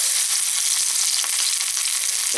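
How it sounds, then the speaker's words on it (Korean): Lotus root pieces fry in hot oil, making a steady, close, bright sizzle scattered with small crackles and pops. No one speaks. "지금 튀기는 소리들 많이들 좋아하시는데"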